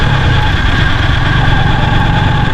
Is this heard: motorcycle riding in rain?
yes